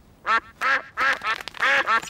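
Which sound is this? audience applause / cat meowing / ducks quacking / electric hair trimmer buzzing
ducks quacking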